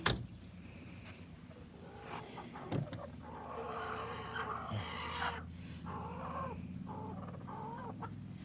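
Chickens squawk and cluck loudly inside a backyard coop, a dense, continuous racket of overlapping hen and rooster calls at close range with no talk.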